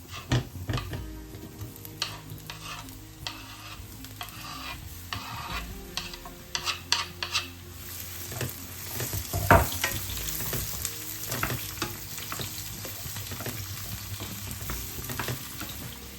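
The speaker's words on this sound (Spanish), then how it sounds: "La cebolla no hace falta dorarlas, así que vamos a ponerla toda junta con lo que es el pimiento" Onion and pepper sautéing in a pan for a rustic ratatouille, a soft continuous sizzle with occasional stirring scrapes and light utensil clicks, fairly quiet and close.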